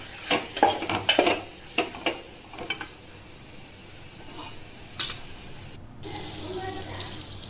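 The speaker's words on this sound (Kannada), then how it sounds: "ಟೊಮೆಟೊ ಚೆನ್ನಾಗಿ ಮೆತ್ತಗೆ ಫ್ರೈ ಆಗಬೇಕು" Tomatoes sizzle quietly in a pan while a utensil clatters and scrapes in several bursts early on, followed by a softer steady sizzle.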